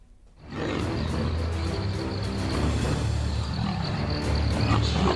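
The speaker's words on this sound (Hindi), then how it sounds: "उनके गुर्राने की आवाज दूर तक सुनाई दे रही है" Two leopards fighting in Bageshwar, Uttarakhand, a continuous loud rough growling and roaring that swells after a quiet start and holds steady throughout.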